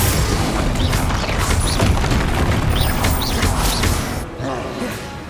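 Incendio fire spell cast in Hogwarts Legacy, a loud roaring, crackling burst with repeated whooshing flares, then a sudden drop to a quieter tail.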